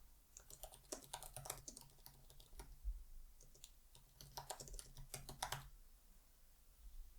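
Fingers type on a computer keyboard in quiet bursts of rapid clicking keystrokes, two clusters separated by a short lull, close and fairly soft.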